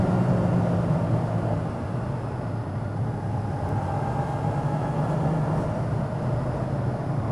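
A motorcycle being ridden, its steady engine drone and road rumble continuous and fairly loud throughout, with no talking.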